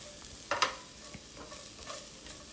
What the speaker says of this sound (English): Now in the same pan I'm gonna add some chopped garlic and cook it for